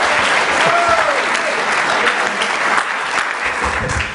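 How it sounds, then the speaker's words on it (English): A police department awards ceremony audience gives a steady round of applause, dense clapping filling the room throughout with a voice or two faintly underneath. "How about a round of applause for the way Lieutenant Scott reads?"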